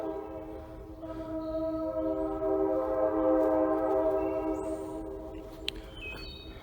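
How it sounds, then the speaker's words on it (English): A sustained train horn blares with stacked harmonic tones for several seconds, steady and fairly loud, with faint birds chirping in the background. "I'm waiting for the train horn to stop"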